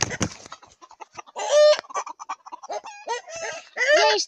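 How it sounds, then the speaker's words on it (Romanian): Hens cluck repeatedly close by, including a crested hen and a green-egg-laying hen, with several louder squawking bursts breaking through the busy chatter of the flock. "Este o găină de ouă verzi."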